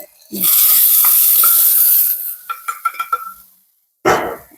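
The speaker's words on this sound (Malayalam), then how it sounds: "നമുക്ക് ഈ കടുക് അടിച്ചത് ഇതിനകത്തോടെ ചേർക്കാം" Hot mustard-seed tempering poured into ridge gourd dal bursts into a loud, sustained hiss close by, then fades into several sharp crackles and pops before a brief final sizzle.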